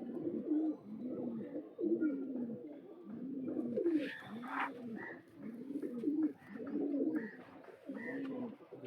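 Paired pigeons, including a male, coo in repeated low rounded phrases, about seven in regular succession, close and fairly quiet, with faint higher chirps and rustling in the background.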